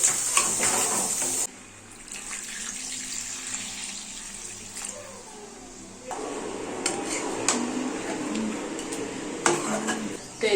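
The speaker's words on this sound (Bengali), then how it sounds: "এবার আমি এর মধ্যে জল দিয়ে দেবো।" Water poured from a container into a pan of braised chicken, heard as a splashing rush at the start, followed by kitchen clatter and cooking noises at moderate level.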